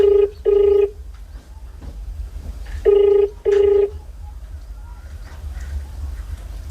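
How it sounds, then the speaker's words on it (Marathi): An outgoing phone call rings back in two paired bursts of electronic tone, each pair a few seconds apart, loud and close over a low background hum, with no talk. "त्यालाच फोन लावते."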